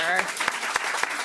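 Clapping starts for a panel of psychiatry speakers at a fellows' day event. A voice is heard at the start, then four or five separate claps ring out in an even rhythm, sparse and moderately close.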